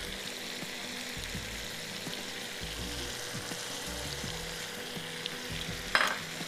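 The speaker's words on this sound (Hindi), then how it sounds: "फिर मैंने उसमें जो मैरिनेट की हुई चिकन थी वो डाल दी और उस वक्त से ये भून रही है" Marinated chicken fries in a pan for a qeema aloo dish, a continuous close sizzle with stirring scrapes throughout and a brief clatter near the end, without speech.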